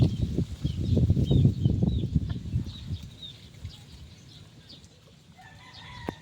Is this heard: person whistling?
no